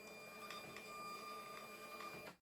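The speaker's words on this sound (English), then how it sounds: "The label is printed and ready to use." A label printer prints a warehouse label, a faint steady whir with soft rhythmic clicks that runs evenly and then stops abruptly at the end.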